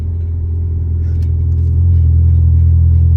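A front-wheel-drive Ford Fusion accelerating hard with its wheels spinning: a loud, close, continuous engine rumble that swells slightly in the second half, with no voices.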